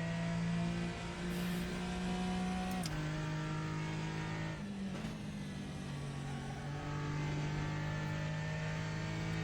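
A Porsche Cayman GT4 engine in a racing simulator game, droning steadily near at high revs with a few brief shifts and dips in pitch, loud and continuous with no talk.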